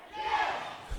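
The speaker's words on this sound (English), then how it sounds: "The crowd here is really supportive of our local wrestlers. They're doing the Daniel Bryan chant." A wrestling crowd at a local show chants the Daniel Bryan chant, a brief loud burst of massed voices shouting in unison, ending with a low thump.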